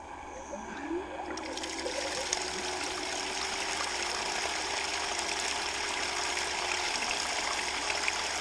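Water pours steadily from a bucket into a gold pan, a continuous close splashing trickle that stays fairly even throughout.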